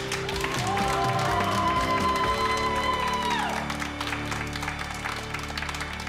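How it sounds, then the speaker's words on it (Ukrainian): A studio audience applauds a made-over man on a makeover show. The dense clapping sits under loud sustained music with gliding tones that fade partway through, and the applause carries on to the end. "Ваші оплески оновленому Дмитру!"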